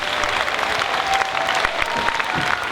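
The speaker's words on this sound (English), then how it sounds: "Give him a round of applause." An audience applauds steadily for a speaker at the close of a talk, a dense wash of clapping that fills the whole stretch at even loudness, with a few faint voices mixed in.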